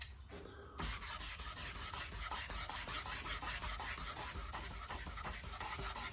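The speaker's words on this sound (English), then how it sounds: "Rag here, quick wipe." A rag wipes quickly over a 1984 Corvette body part during a rebuild, giving a loud, close, steady rasping scrub with rapid regular strokes after a brief quieter start.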